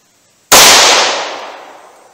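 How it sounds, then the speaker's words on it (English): A single loud gunshot from a .327 Federal Magnum round fired out of an LCR revolver, a sharp close crack after brief silence followed by a decaying echo tail. "All right, 327 Federal Magnum out of the LCR."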